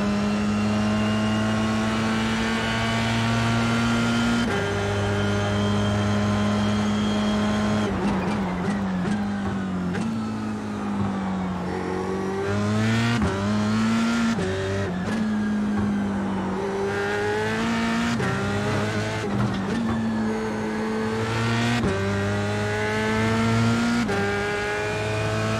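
Race car engine in a sim racing video game, a steady high whine that drops and climbs repeatedly as the throttle is feathered and gears change, loud and continuous with no talking over it.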